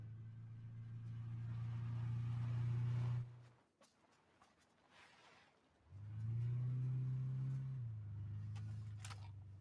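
A car driven in the PUBG video game gives a low engine hum that cuts out into near silence for a couple of seconds, then returns and revs again, fairly faint overall.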